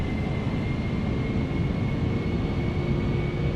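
Steady broadband roar of a simulated Boeing 747-400 jet in Flight Simulator X, taxiing at an airport, with a faint tonal whine over a continuous rumble, loud and unbroken throughout.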